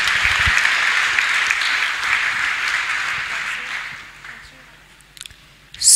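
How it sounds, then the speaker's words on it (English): Sustained applause from a church congregation, dense clapping that gradually fades toward the end before a brief burst of sound. "just clap louder for the Master Healer in Jesus' name"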